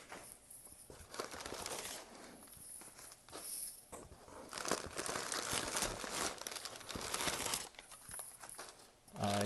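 Paper packaging from a graded trading card shipment is pulled apart and unwrapped, giving close, faint, irregular crinkling and tearing in uneven bursts with short pauses in between.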